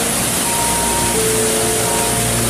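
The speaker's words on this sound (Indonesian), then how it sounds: "maaf kalau videonya agak berisik ya sahabat ya, karena arus dari air terjun sini sangatlah deras" A strong waterfall's rushing current roars as a loud, steady, broadband wash of water noise filling the whole clip, with no talk.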